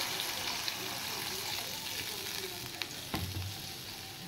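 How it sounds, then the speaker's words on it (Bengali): Fried spice masala in an Indian home kitchen pan hisses steadily and softly, then water poured in brings a sudden sharper burst of sizzling and bubbling near the end. "মশলাটা কষিয়ে নিয়েছি, এবার আমি জল দিয়ে দেবো।"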